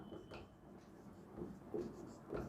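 Handwriting strokes of pen on paper while an accounting entry for a process costing problem is written out, soft scratchy bursts repeating close by with low background hum.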